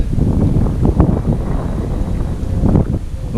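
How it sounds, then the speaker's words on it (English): Steady wind gusting around an open boat on the water during carp fishing, a broad low rushing roar with buffeting microphone noise that swells and dips throughout, no voices. "the wind's getting up now too"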